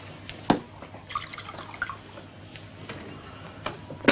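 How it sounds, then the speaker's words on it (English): Water is poured into a glass, making quiet, brief splashing and a few light drips with short pauses between them. No one speaks. "Would you mind pouring some water into it?"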